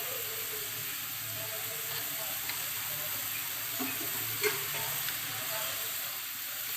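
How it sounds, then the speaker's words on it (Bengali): Spice paste (masala) frying in oil for a chicken curry, with turmeric, salt and chili powder added, gives a steady, moderate sizzle. Occasional soft stirring scrapes and clinks sit on top of it, and no one talks. "মশলাটা আমি ভালো করে একটু কষিয়ে নেব"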